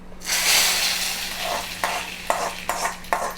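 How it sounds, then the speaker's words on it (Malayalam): Mustard-seed tempering for Kerala sambar at an Onam sadya: a loud burst of hot-oil sizzle starts almost at once and settles into a steady hiss, broken by several sharp pops and crackles near the end. "ഇനി നമുക്ക് കടുവ് വറക്കണം"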